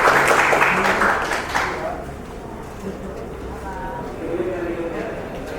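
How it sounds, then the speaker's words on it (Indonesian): Audience applause for the minister at a press conference on energy and mineral sector results: loud clapping from a crowd at first, thinning and fading out within a couple of seconds while a voice speaks over it. "Mari kita bersama-sama berikan aplaus kepada Bapak Menteri"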